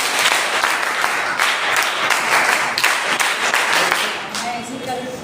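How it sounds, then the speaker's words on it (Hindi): A crowd applauds at a scout and guide investiture ceremony, loud close clapping from many hands that holds steady and then thins toward the end as a voice begins to speak. "ताली बजाएं।"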